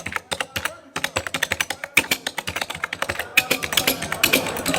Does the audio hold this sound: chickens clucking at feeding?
no